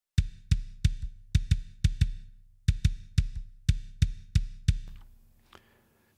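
Kick drum processed with the PSP Infinistrip plugin, a series of punchy, close thumps in a steady drum pattern, each with a short decay, playing alone.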